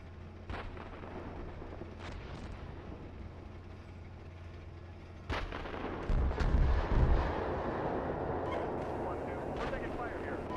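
Gunfire and artillery thunder through a military video game battle, with sharp shots near 0.5, 2 and 5.3 seconds and a heavier rumbling barrage around 6 to 7 seconds over a steady engine-like drone, while voices talk underneath.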